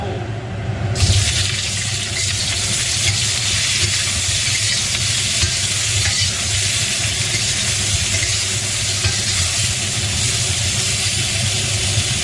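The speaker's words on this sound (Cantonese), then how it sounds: "想蝦香口嘅咪稍稍煎一煎佢咯" Cooked leftover shrimp fry in a hot wok, giving a steady broadband sizzle throughout that holds at a constant level with no voices over it.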